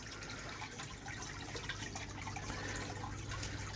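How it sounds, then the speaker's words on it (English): A pond pump runs with its filters removed, pushing water in a steady, close, continuous trickling wash with a low hum beneath, no voices. "All the filters are out now, just the pump running."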